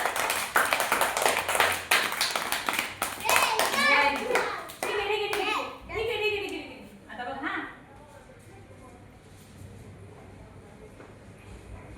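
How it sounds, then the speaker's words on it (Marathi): Children clap loudly in a lesson on learning numbers: a burst of quick, dense clapping mixed with an adult's voice and children's voices, which then fade to talk. "टाळ्या वाजवा जोरात एकदा. जोरात खूप जोरात."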